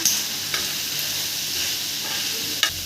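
Steady sizzling of squid frying with spices on a hot tawa pan, with a few soft scrapes of stirring, no talking.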